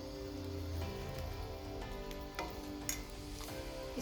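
Sugar syrup poured over fried gujiya makes a soft, close, wet trickling and pattering with a few light clinks, steady and quiet with no voices.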